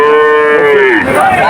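Cattle at the Satmile cattle market, where calves are sold: one loud, close, drawn-out moo that falls in pitch toward the end, standing alone.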